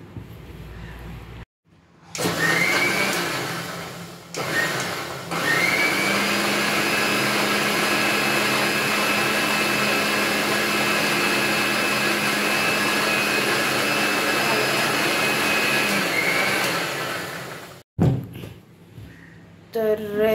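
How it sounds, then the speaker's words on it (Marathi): An electric kitchen mixer blends milk with vanilla ice cream, a loud, steady whirring motor running for about fifteen seconds after a brief start-stop pulse, then cut off, with short pauses and handling noise at either end. "आणि आता हे मम्मी मिक्सरला लावून घेणार"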